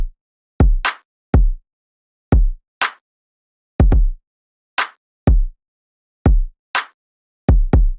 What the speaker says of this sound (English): So that's the kick and the snare, or should I say a clap.